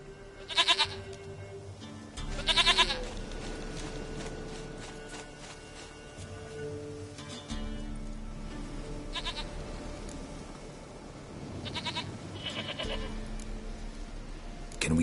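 Repeated goat bleats in The Witcher 3, several short quavering calls spaced across the stretch, close and clear over a steady game ambience with low background tones and no talking.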